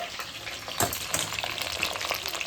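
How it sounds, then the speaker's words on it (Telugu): Fish sizzles as it fries in hot oil in a pan, for a Rayalaseema-style curry. The crackling and spattering is steady and close, with a few sharper pops and the scrape of stirring. "చేపలు ఇందులో వేసుకొని కొంచెం ఒక రెండు నిమిషాలు వేపుకోవాలి"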